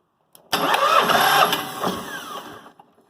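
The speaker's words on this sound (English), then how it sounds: "the engine didn't start because I intentionally didn't give it enough fuel" A TF 110 engine cranks on its starter without catching, a loud, near whirring-chugging burst of about two seconds after a click, fading with a few rattles; no voices.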